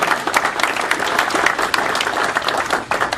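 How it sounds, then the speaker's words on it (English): Audience applause for presenters at a scale model builders' 3D printing session, a brisk, dense patter of many hands clapping steadily throughout, fairly near and loud, with no voices over it. "I want to give a big round of applause for all our presenters"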